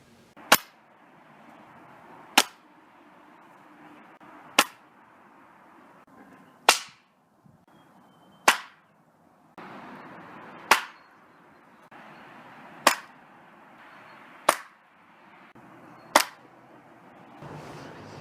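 Pocket Shot slingshot launching 1/4-inch and 5/16-inch steel ball bearings, nine crisp snapping releases at a steady pace of about two seconds apart, each with a quick sharp crack, over a faint background hiss.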